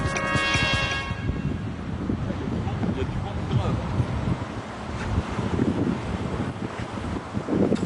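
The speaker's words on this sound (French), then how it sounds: "Trop de vent. Ah ouais, là ça souffle" Strong wind buffets the microphone on a Paris rooftop, a steady roaring rush across the whole clip with gusty swells, and people speak beneath it.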